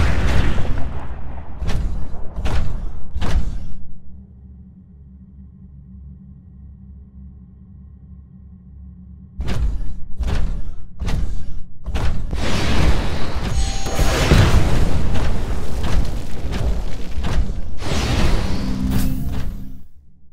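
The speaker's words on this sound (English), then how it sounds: "Move down the hallway while avoiding the rockets." Game-world rocket blasts and combat noise from Titanfall, played on PC: a run of loud booms, a quieter stretch, then dense, continuous explosions and firing without voices.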